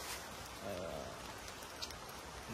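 Heavy rain pours steadily on a mountain trail at about 2,211 metres, a dense, even hiss of drops with no breaks and no voices.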